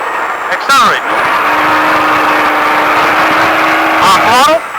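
A Baja truck engine revs up and accelerates at speed, a loud sustained roar with rising tone between brief off-throttle dips, close and steady throughout.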